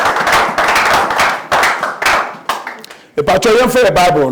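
A congregation at a church service claps in bursts of loud, dense applause for Jesus, which stops briefly before a voice takes over.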